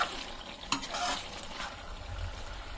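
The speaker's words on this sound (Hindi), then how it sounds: "और अच्छी तरीके से हम भून लेंगे मसाले को।" Kashmiri chili powder and spices being roasted and stirred in a pan for buttery pav bhaji, a soft steady sizzle with scraping stir strokes and one sharp clink of a utensil, close and moderately quiet.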